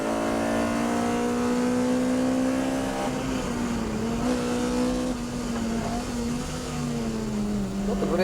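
A car runs on a test track with its engine droning steadily up and down in pitch as it is driven, loud and close, with talk over it at times.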